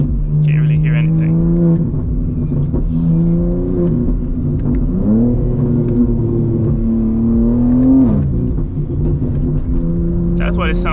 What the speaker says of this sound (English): So this is what my G80 sounds like without a tune.